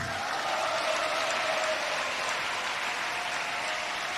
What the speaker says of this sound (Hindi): हाँ, बजा लो तालियां जितनी बजाना है।